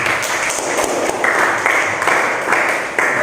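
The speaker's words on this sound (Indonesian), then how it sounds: "tepuk tangan dulu untuk kelompok 3" A classroom of students applauds presentation group 3 in an Islamic religious education lesson, dense clapping from many hands that swells slightly partway through and holds steady to the end.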